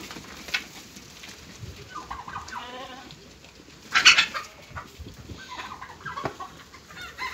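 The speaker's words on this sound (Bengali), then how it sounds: "এই যে দেখেন কত বড় মুরগি" Large poultry clucking and gobbling on a farm in Al Qassim, Saudi Arabia, scattered calls near the mic with one louder burst midway, over a quiet outdoor background.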